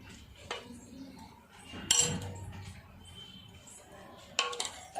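A spoon clinks against a bowl while gently mixing bottle gourd yogurt chutney, with a couple of sharp taps and soft scraping, and someone talking.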